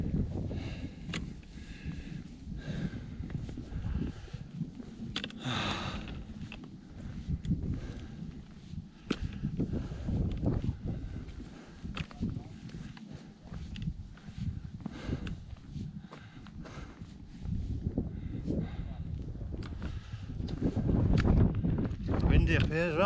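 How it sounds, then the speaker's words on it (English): Gusty wind buffets the microphone high on a Lake District fell by old mine workings near Seathwaite, a steady low roar that swells and eases, with footsteps and someone talking in between. "Windy up here as well."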